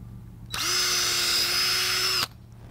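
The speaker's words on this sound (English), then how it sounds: "it's real important when you drill that you have a smooth action and you just go in and directly out in one stroke" A power drill bores an infusion hole into the flare root of an avocado tree in one smooth stroke, a loud steady whine starting abruptly and cutting off after under two seconds.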